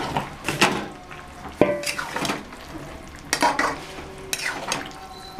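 Fried lentil dumplings and fried eggplant go into a pot of shukto, with a few sharp utensil clanks against the metal, scraping stirs and a soft simmering sizzle, close by and with no talk.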